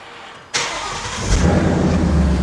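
A car's engine starts on a Dynojet Vector-X 4000 hub dyno, cranking with a sudden catch and then settling into a loud, steady mid-range idle that swells a little after the start.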